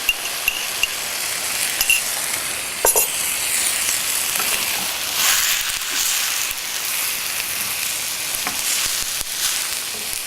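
Peppers tipped into a hot pan set off a loud, continuous sizzle with a few scraping stirs and light clicks, and no voices.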